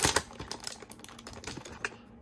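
A Pokémon Unbroken Bonds booster pack's foil wrapper crinkles and tears close up in short, quick crackling bursts, with a sharper rip at the start and scattered small crinkles after.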